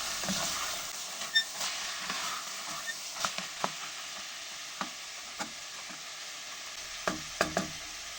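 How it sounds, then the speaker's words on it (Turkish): Chickpeas are sautéed in a pan for a meat and chickpea stew, giving a low, steady hiss with intermittent light clicks and taps of a spoon against the pan, several in quick pairs toward the end. "Şimdi nohutlarımı ilave ediyorum. Bu biraz daha kavuracağım."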